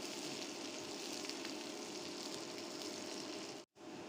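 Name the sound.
onions frying in mustard oil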